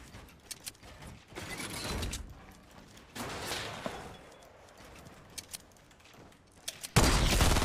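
Gunfire in the Fortnite video game, sharp shots and short bursts popping at irregular intervals over mechanical clatter and a busy game mix, with a loud blast near the end.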